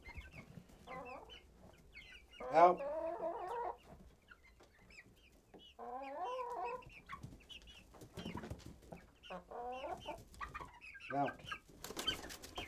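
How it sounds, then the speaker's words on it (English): Farm chickens clucking and squawking as they are flushed out of a cluttered coop, several birds calling in bursts while a person briefly shouts commands. "It's gonna start by flushing out the chickens."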